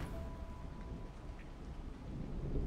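Steady rain with a low thunder rumble from the Haunted Hotel: Silent Waters hidden-object game, a dense continuous wash that swells slightly toward the end, with no voices.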